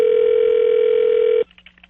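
A telephone dial tone on a radio morning show prank call, a steady loud tone for about a second and a half that cuts off abruptly into faint line noise and a short dialing sequence.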